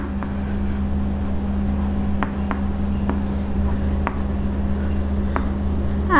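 Chalk or marker writes on a classroom board in short scratchy strokes with brief taps between them, close and clear over a steady low background hum.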